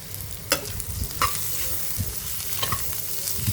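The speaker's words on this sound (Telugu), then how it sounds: "సిమ్లో పెట్టుకొని వేయించుకోవాలి, అప్పుడే బాగుంటుంది." Eggs frying on a low flame with fresh curry leaves give a steady close sizzle, broken by a few sharp scraping stirs of a spatula in the pan, with no talk.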